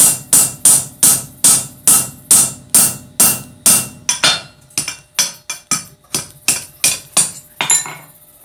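Hammer blows on hot steel enlarging a punched hole while forging blacksmith tongs at a live demo, a steady rhythm of about sixteen loud ringing strikes that slow and space out toward the end.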